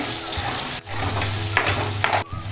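Egg bhurji sizzles and fries steadily in a pan while being stirred, with brief scraping strokes and a couple of short breaks in the hiss, close and fairly loud with no talk.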